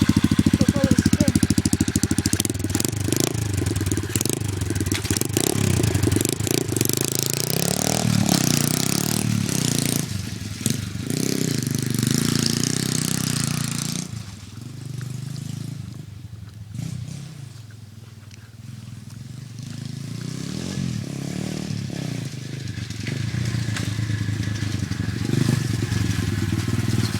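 A Giovanni 125cc dirt bike engine runs steadily at idle, a continuous low rumble close by that dips briefly in the middle, with some talking over it.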